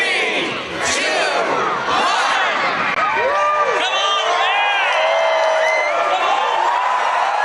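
At the Christmas Tree Lane lighting in Altadena, California, a large outdoor crowd erupts in loud cheers, whoops and shrieks of adults and children, sustained throughout at close range.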